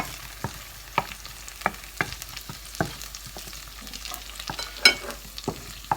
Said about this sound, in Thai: ทอดให้กรอบเหลืองเลยค่ะ